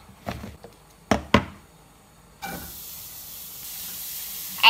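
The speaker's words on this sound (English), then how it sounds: "And I'm just gonna lightly saute that." Cauliflower drops into hot coconut oil in a pan after a few knocks, then sizzles with a steady, soft hiss that continues to the end.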